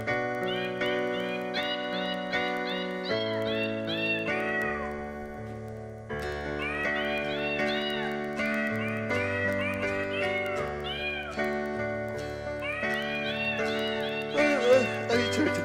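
A song built from cat meow samples pitched into a bouncy tune, the meows sung continuously over steady backing music, loud and upfront with no pauses.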